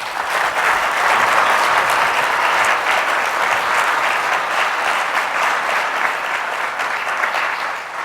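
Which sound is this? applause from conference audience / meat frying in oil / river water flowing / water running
applause from conference audience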